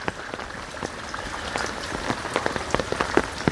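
Rain falls steadily in a forest, a constant close patter of drops on leaves and surfaces with small irregular splashes, alone without voices.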